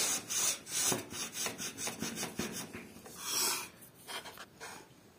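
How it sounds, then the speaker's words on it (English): Wood feeding into the channel of an Einhell TC-SP 204 stationary planer produces rough, rhythmic rasping and scraping strokes, close and fairly quiet, with a stronger grinding burst near the middle and no talking. "this is the wood entering the channel"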